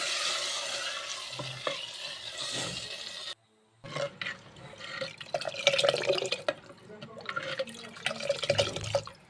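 Spice tempering sizzles in hot oil for a pachi pulusu dish, a steady crackling fry with stirring and liquid drips, briefly dropping out before the sizzle and scraping return louder.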